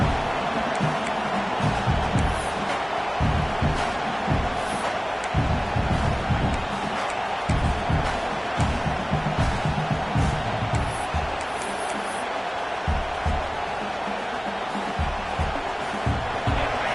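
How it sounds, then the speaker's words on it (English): A packed football stadium crowd at a Louisville vs Oregon game roars steadily and loudly, a dense sustained wash of voices with faint whoops rising now and then. "The roar of the crowd trying to fuel this defense to keep them pinned in their own end."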